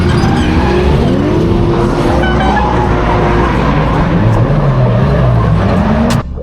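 A Nissan 180SX drift car on a shakedown run at a Japanese touge throws out a loud, continuous engine roar with tire squeal and a rising, falling pitch as the driver works the throttle.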